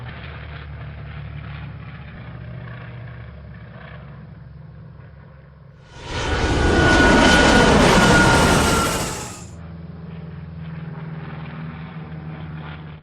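Harold the Helicopter from Thomas & Friends passes overhead, a loud whooshing rotor roar that swells suddenly over a low mechanical hum, holds for a few seconds, then cuts away.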